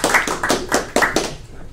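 Short burst of audience applause following a lecture introduction, a handful of loud, close hand claps in quick uneven rhythm that tail off within two seconds.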